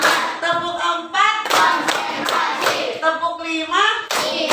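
A classroom group claps hands rhythmically during a counting game, sharp bursts of claps mixed with children and a teacher chanting loudly over and between them.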